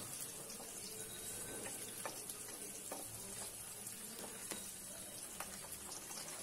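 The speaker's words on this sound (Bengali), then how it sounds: "টমেটো কুচি থেকে আমি 2 ফালি টমেটো দিয়ে দিচ্ছি যেন তেলের সাথে" Tomato slices sizzling in hot oil in a pan while a Bengali shorshe pabda fish curry is made, a steady, fairly loud frying hiss with faint clicks and stirring scrapes throughout.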